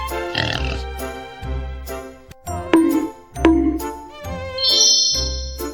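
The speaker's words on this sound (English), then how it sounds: "A pig." A cartoonish pig oinks and grunts in short bursts within a children's song, set among chimes, dings and tinkling jingles over a steady low bass pulse.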